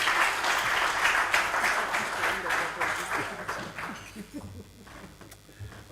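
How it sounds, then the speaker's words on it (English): A festival audience gives a round of applause after a presentation, loud dense clapping that gradually thins and fades toward the end, with speech mixed in. "Let's give them a huge round of applause again."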